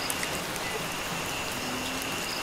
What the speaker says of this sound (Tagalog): Ang ulan lang.